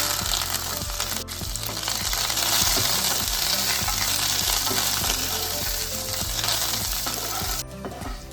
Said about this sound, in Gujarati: વઘારમાં આપણે કાજુના ટુકડા પણ એડ કરી અને થોડી આપણે કોથમીર એડ કરી